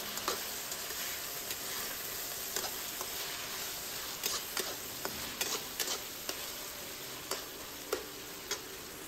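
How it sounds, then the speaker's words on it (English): Sliced lamb leg meat stir-fries over high heat, giving a steady soft sizzle broken by scattered clicks and taps of the spatula against the pan. "Add in the lamb meat. Quickly stir-fry on high heat for about 1 minute."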